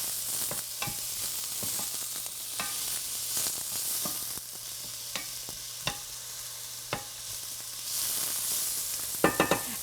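Beet greens frying in a hot skillet, a steady bright sizzle with sharp spatters and scraping stirs at irregular intervals, close up with no talk.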